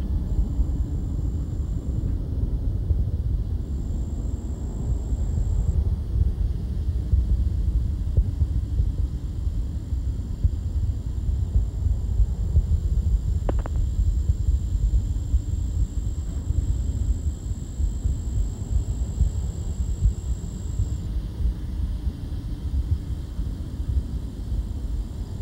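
Space shuttle Atlantis at throttle up during launch, a steady broadband rumble that holds loud and unbroken throughout, with a faint high tone running above it.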